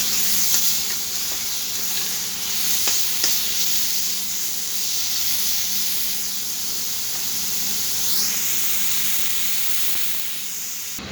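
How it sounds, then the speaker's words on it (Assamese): Carrot, beetroot and tomato sizzling together in a frying pan, a continuous hiss with a few faint clicks of stirring, close and steady throughout with no voices. "এয়া মোৰ গাজৰ বিট আৰু বিলাহীখিনি একেলগে ফ্ৰাই কৰা হৈ গৈছে"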